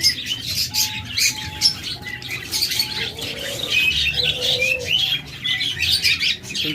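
A pair of budgerigars, a pure rainbow male and a mauve rainbow female, chirps and chatters steadily and close by, with busy high twittering and a few squawks over a low background hum.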